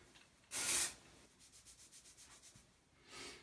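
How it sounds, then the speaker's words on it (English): Dry shampoo rubbed into hair after spraying: a short burst of hiss, then a quiet run of rhythmic scrubbing strokes, and another faint spray near the end, close and soft. "Remember to hold it a good 7 inches away and then rub it after so you don't have any residue in your hair."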